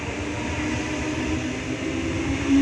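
A Sydney train pulls in at a station platform, a steady, loud rumble of wheels and traction noise with a low tonal hum, continuous throughout and swelling slightly at the end.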